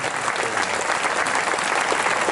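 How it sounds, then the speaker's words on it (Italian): A crowd at a live comedy show applauds, with dense, continuous clapping from many hands that holds at an even, loud level throughout. "fare un grande applauso meritato a quel grande conduttore"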